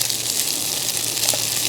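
Burgers fry in a pan outdoors in the rain on a fishing trip, giving a dense, steady sizzle and hiss throughout, with no voices.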